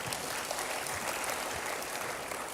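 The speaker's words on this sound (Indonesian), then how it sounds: "berikan tepuk tangan dulu, saudara" Steady applause from a church congregation, a dense wash of clapping heard at a moderate distance with no pauses.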